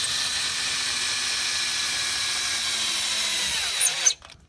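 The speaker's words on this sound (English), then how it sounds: "you can bring your drill and have a socket that fits" A power drill fitted with a 3/4 inch socket cranks the manual jack on a Geo Pro 19F camper at a campground. It whirs steadily and loudly, then cuts off abruptly near the end.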